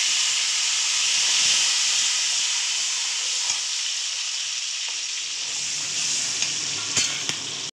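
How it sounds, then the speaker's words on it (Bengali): Tomato, chopped onion and green chili fry in oil in a pan, giving a steady, close sizzle and hiss throughout with a few faint clicks near the end. "এখানে আমি একটু তেল দিয়ে দিলাম, টমেটো, পেঁয়াজ কুচি আর কিছুটা কাঁচা লঙ্কা।"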